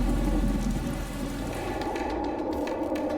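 Steady rain pours down in Arunachal Pradesh, a dense continuous hiss of drops on surfaces with low rumbling beneath, loud and unbroken throughout.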